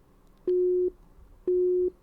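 A phone busy tone sounds after a call cuts out in Schrödinger's Call. Two clean, evenly spaced beeps come through loud and clear against near silence.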